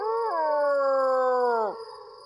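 A human voice imitates a dog howling at night with one long, drawn-out, mournful howl. It holds nearly level, then dips and fades, heard up close and alone.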